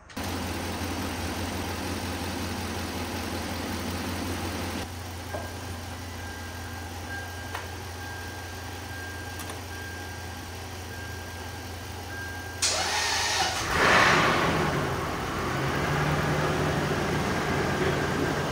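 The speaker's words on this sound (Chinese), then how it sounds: "现在收车小哥过来，看能不能把这辆车发动起来。" A Lexus LS400 with its 1UZ-FE V8 cranks and catches near the end, then settles into a steady idle, following a long stretch of low, constant rumble.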